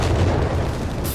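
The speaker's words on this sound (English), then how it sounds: "the 17-pounder gun fires on TriLambda's Panzer IV" A British 17-pounder anti-tank gun in the strategy game Company of Heroes 3 fires a deep, loud booming blast that rumbles with dense battle noise for about a second.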